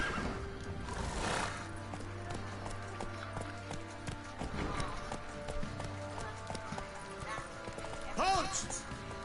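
In The Witcher 3 video game, a horse gallops with rapid, rhythmic hoofbeats and lets out a loud whinny near the end, heard up close over the game's background sound.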